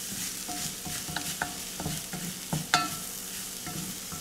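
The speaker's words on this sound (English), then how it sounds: "I want to toast the rice a little bit" Orzo rice toasting in a pan, a continuous crackling sizzle punctuated by quick scrapes and taps of a spoon as it is stirred.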